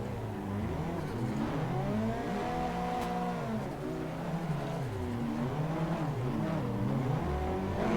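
Engine note of a car drifting in Assetto Corsa, steady and loud, with the revs rising and falling in sweeping pitch arcs as throttle is feathered through transitions, continuous with no talk.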